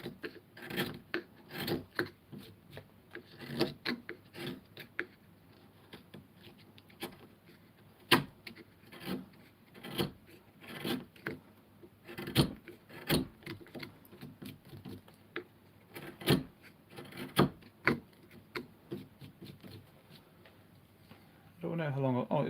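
A hand carving tool scrapes wood, taking down flat surfaces of a carved figure in irregular bursts of close, dry scraping and rasping strokes, separated by short pauses, with quiet talk heard in places.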